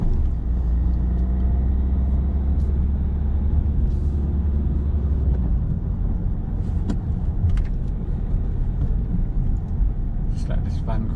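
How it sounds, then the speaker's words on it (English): A van drives past on a suburban road, its engine and tyre rumble heard from inside a car driving a test route in Coventry, with steady low road noise throughout and a voice talking over it. "Just let this van come through."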